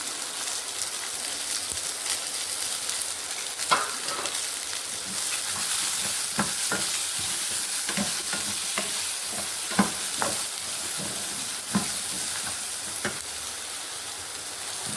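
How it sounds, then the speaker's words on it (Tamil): Pirandai (adamant creeper) sautéing in a pan, a steady broadband sizzle with intermittent scrapes and clicks of stirring, close and fairly loud, no voices. "பிரண்டையும் நல்லா வதங்கணும்."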